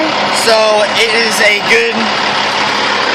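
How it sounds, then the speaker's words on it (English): A car engine idles steadily with no surging, a constant hum running under someone talking close by. "This engine is not surging"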